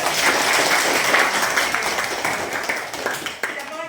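Classroom audience of students applauding, a dense steady patter of many hands clapping that fades slightly toward the end, with scattered voices mixed in.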